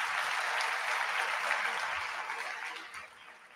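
Audience applause at a humanities event in Italy, a dense wash of clapping that holds steady and then gradually fades out over a few seconds.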